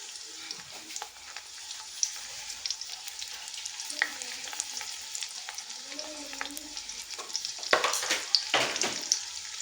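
Onions and seasoning cubes frying in a pot while being stirred: steady crackling sizzle with scraping, clinking strokes of a spoon against the pot, growing busier toward the end.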